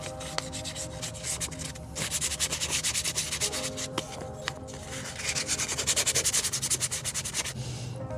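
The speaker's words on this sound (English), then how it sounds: "I'm just going to scuff up the powder coat on here" Steady rasping sandpaper scuffs the powder coat on a metal flag mount for a Ford Bronco, a close, continuous scratchy rubbing that comes in rhythmic strokes and swells louder in the second half, with no voices.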